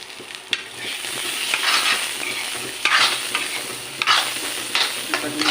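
Garam masala fries in a pan with a steady close sizzle while a utensil scrapes and stirs through it in irregular strokes, with no voices.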